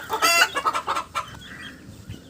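Native-breed laying hens cluck in a close, rapid series of loud calls that then fade into quieter murmuring clucks, with no talking.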